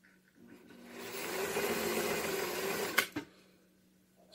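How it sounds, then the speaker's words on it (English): A Singer FashionMate 257 sewing machine runs a straight stitch, a steady mechanical whirring hum that builds in and stops with a sharp clunk, heard up close with no talk. "Stitching function for straight line."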